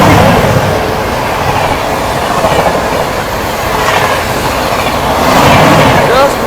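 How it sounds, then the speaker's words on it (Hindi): The Nandan Kanan Superfast Express, train 12816 between Anand Vihar and Puri, roars along the rails at speed, a loud, close, continuous rumble with rhythmic clickety-clack from the wheels and brief metallic squeals. "train number 12816 Nandan Kanan express Anand Vihar से चलकर पुरी के बीच में चलने वाली नंदन कानन सुपरफास्ट"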